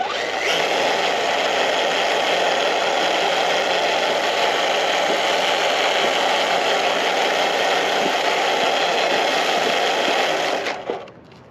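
An RC car fitted with a Tuned Machine 45-turn modified motor and an 18-tooth pinion gear runs steadily, producing a loud, continuous mechanical whine for about ten seconds before it cuts off abruptly at the end.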